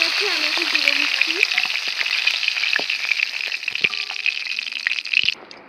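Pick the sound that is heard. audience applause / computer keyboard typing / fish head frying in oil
fish head frying in oil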